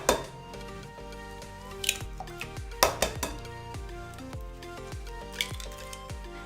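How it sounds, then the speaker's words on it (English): Three eggs are cracked into a bowl for a paleo pumpkin pie, with soft clinks, taps and wet squishes against the bowl, quiet and close. "I'm gonna crack the eggs into the bowl. So just 3 eggs right in."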